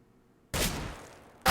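A single sharp, loud gunshot blast in CS:GO during a pro ESL match between Splyce and Cloud9, bursting in after near-silence and decaying over about a second, with another burst starting at the end.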